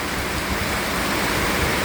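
Heavy rain at Cochin airport pours down as a dense, steady roaring hiss with no gaps or other distinct sounds throughout.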